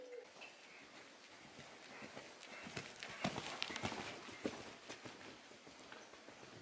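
Horse cantering on a trail ride, with steady muffled hoofbeats in a rolling rhythm recorded from the saddle, plus faint outdoor ambience and light creaks.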